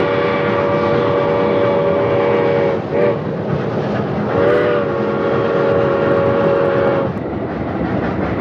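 Grand Trunk Western 5629 train whistle sounding two long, steady blasts with a brief break between, loud and sustained over a rumbling rail background.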